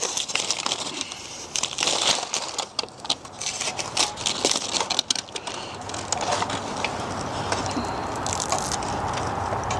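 Protective plastic film is peeled off bumper trim, giving close, irregular crinkling and crackling with a few sharper tearing bursts, then a steadier rustle toward the end.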